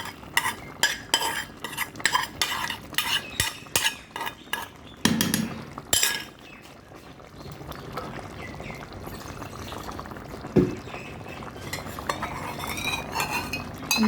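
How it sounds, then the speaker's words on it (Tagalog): Ground meat being stirred into boiled rice in a cooking pot for goto, a close rapid series of spoon scrapes and clinks against the metal, then steadier churning with occasional knocks. "Lagyan natin yung giniling."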